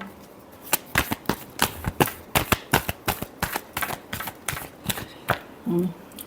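Tarot cards shuffled in repeated quick riffling bursts, close and crisp, a steady run of sharp papery slaps with no talking over them.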